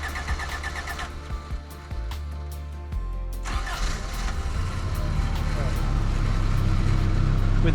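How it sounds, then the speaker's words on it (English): A 1989 Toyota Van engine cranks with a rapid, uneven churning, then catches and settles into a steady, loud running drone. "With the car cranking"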